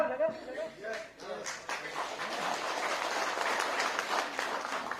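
An audience bursts into applause after a foundation day speech. A brief voice opens the moment, then close, steady clapping builds and holds to the end.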